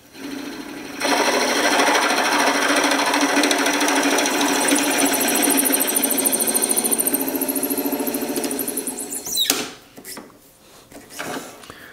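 A drill bit bores into an apple-shaped wooden workpiece spinning on a wood lathe. A loud, steady whirring grind with rattling vibration lasts about eight seconds, then cuts out into a few clunks and scraping handling noises.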